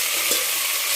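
Salt stirred into cooking sambar ingredients in a hot pan, a brief scrape over a steady close frying sizzle.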